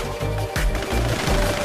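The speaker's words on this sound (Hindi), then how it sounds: "तुम्हारी ये गोलियां मुझ पे कुछ काम नहीं आने वाली" Gunfire in an animated Hindi action story: three loud, broadband bursts of shots roughly half a second apart, each followed by a rumbling low-end tail, heard alone without talk.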